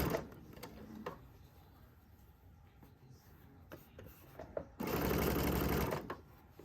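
A sewing machine stitches a ruffle skirt at a slow pace, with short quiet bursts of mechanical whirring early on, then a loud steady run of stitching for about a second and a half near the end.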